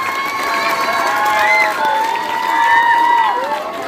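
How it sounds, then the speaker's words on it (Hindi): A crowd at an Indian school function cheers and claps in a dense, sustained roar, with children's shouts and whistling voices rising and falling over the applause throughout. "एक बार जोरदार ताली"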